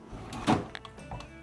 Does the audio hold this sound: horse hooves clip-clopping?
no